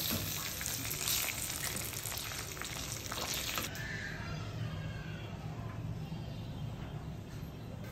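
Eggs fry in oil in a pan, a soft, steady sizzle that is busier and more crackly at first, then settles into a quieter, even hiss.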